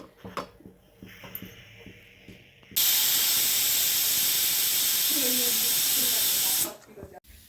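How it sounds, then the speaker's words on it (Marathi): A pressure cooker on the stove lets out a loud, sustained steam whistle and hiss lasting several seconds before cutting off sharply, preceded by quieter kitchen clatter. "झाकण लावते आणि पाच शिट्ट्या होऊ देते"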